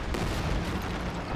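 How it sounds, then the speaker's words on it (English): Tank cannon fire in the strategy game Company of Heroes 2 during a 1v1 match, a dense, loud barrage of booming shots and gunfire rolling together without pause. "Ooh, nice shot there, Dimitri."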